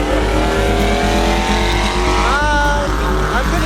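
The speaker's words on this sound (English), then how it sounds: "Michael Scott is about to run his 71 Super" A stock 1971 VW Super Beetle on a quarter-mile drag strip, a loud continuous engine drone amid race-track noise with a brief rising squeal partway through.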